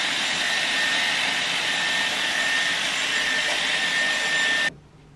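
A Dyson Airwrap hair styler blows a loud, steady rush of air for several seconds at close range, then cuts off abruptly near the end.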